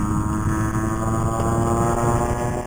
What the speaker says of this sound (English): Full throttle gas, full throttle electric.